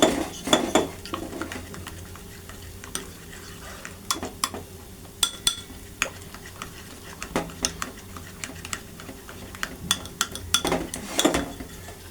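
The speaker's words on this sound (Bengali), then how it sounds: "এটা ভালো করে মিক্স করে নেবেন, যাতে দলা দলা না থাকে" A spoon stirring a mixture in a pan to smooth out lumps, giving intermittent metallic clinks and scrapes against the pan over a quiet background, close up and without speech.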